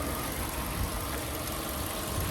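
A 2021 Chevy Spark LT with 50,000 miles idles with its hood open, a steady low engine hum with a faint ticking rumble, constant and close, with no voices over it.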